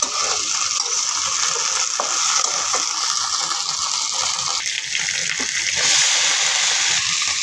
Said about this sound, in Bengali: তারপর এটাতে আমি সয়া সস আর টমেটোর হট সসটা দিয়ে দিয়েছি। এখন ভালো করে মিশিয়ে নিচ্ছি।